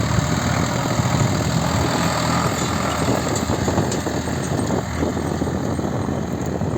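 A Solis RX50 tractor engine runs in a field in March, a steady, loud, close droning rumble that holds without a break throughout.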